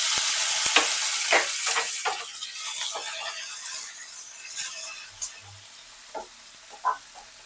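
Grated ginger and tomato sizzle and fry in a pan with stirring for a rui fish curry with vegetables, a steady loud crackle at first that fades to a softer simmer with a few clinks of a utensil.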